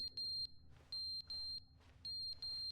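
Harsh, piercing electronic beeps in the video game The Stanley Parable, sounding in a repeating pattern of short and longer bursts with brief gaps between, loud and shrill over a low background hum.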